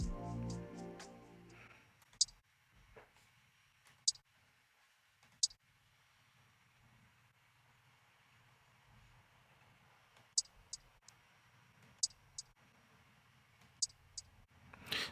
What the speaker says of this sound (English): So you can hear how interesting this hi-hat sounds.